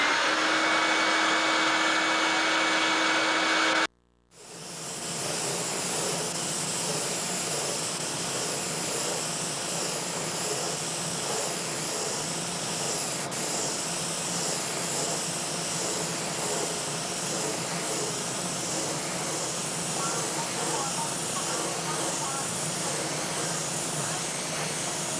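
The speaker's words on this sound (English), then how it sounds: "And the shop vac does work well." A shop vac blows air to dry buffing, a loud continuous hiss and whoosh that drops out briefly near the start, then runs steady and close for the rest.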